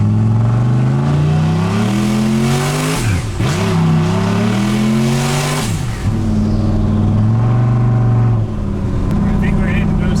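Turbo LS engine in a street truck revving hard, engine pitch repeatedly climbing then abruptly dropping as boost cut hits, several loud rising pulls in a row.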